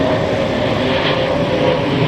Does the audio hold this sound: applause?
no